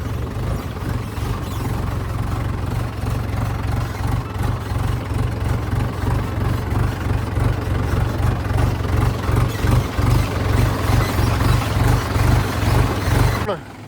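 A tractor engine labors over a rough, muddy off-road track, a steady low diesel rumble with a fast, regular throb that stays loud and close throughout before cutting off abruptly at the end.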